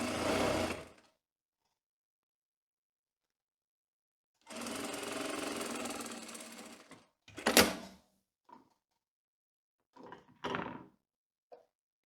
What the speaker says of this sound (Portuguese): Vou costurar então direito com direito, 1 centímetro.